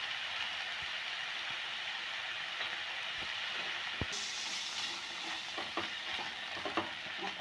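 Green peas sizzle in a pan with chopped chili and garam masala for matar paratha filling, a steady close frying hiss broken by occasional spoon knocks and scrapes, no voices.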